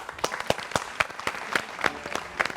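A television studio audience claps for an arriving guest, a dense burst of applause with sharp individual hand claps standing out, close and lively, with no talking over it.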